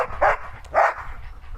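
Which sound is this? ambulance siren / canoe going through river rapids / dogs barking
dogs barking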